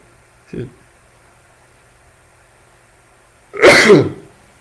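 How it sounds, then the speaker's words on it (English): A short sharp intake of breath, then a single loud close sneeze bursting out a few seconds later in an otherwise quiet room. "I had a sneeze."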